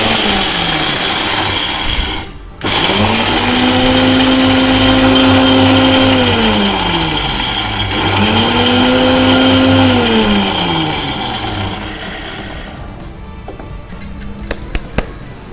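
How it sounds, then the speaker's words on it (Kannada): A kitchen mixer grinder whirs loudly as it grinds cumin, black pepper and chopped ginger, running in bursts with a brief stop early, rising and falling motor pitch, then winding down toward the end. "2 ಸ್ಪೂನ್ ಜೀರಿಗೆ, 2 ಸ್ಪೂನ್ ಮೆಣಸು ಮತ್ತು ಒಂದು ಇಷ್ಟುದ್ದ ಶುಂಠಿ ತೊಳೆದು ಹೆಚ್ಚಿಟ್ಕೊಂಡಿರೋ ಶುಂಠಿನ ಮಿಕ್ಸಿ ಮಾಡ್ಕೋತೀನಿ"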